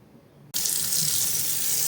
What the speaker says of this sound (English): Wash the knife between sharpening steps and before use.